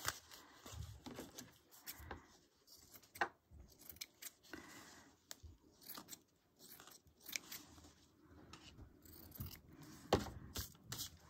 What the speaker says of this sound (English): glue a piece of cheesecloth, and then I'm gonna trim it.